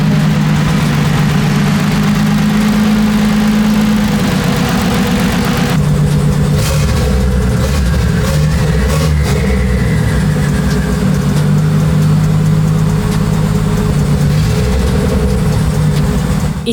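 A Toyota 2JZ engine idles loud and steady in a project car with slightly off tuning and the cooling fan running. The deep even rumble continues without a break for the whole stretch.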